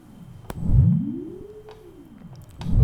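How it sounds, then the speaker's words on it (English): A deuterium lock signal from an NMR spectrometer, rendered as an audible tone from a typical NMR solvent, sweeps up and down in smooth arcing chirps, faint and electronic, with soft pulses repeating. "So this is the signal of deuterium"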